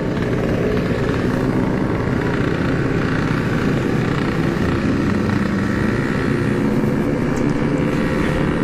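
Yamaha RX King two-stroke motorcycle on a night ride through Jakarta, running near its 138 km/h top speed on the stock 26 mm carburettor, giving a loud, continuous engine and wind roar throughout.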